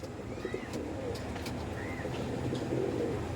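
Pakistani teddy pigeons give soft, low coos, a couple of brief calls standing out over a steady murmur of background noise, with no talk.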